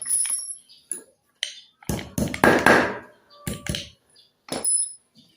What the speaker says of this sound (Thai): ทุบก็ให้มันตรงนะครับ ไม่ต้องให้มันโคตรงอนะครับ